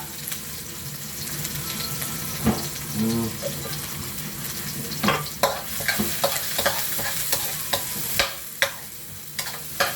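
Garlic, onion and pepper sautéing for adobo, a steady close sizzle with sharp scraping stir strokes recurring through the second half, with occasional talk.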